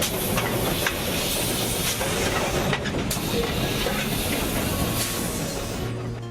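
A steam train on the Cumbres & Toltec Scenic Railroad rolls steadily with a loud, continuous hiss and rumbling rail noise, faint clickety-clack running underneath throughout.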